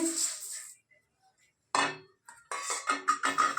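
Kamini atap rice and lentils being washed by hand in a pot, heard as short bursts of wet clinking and scraping against metal, separated by a quiet gap, close to the mic.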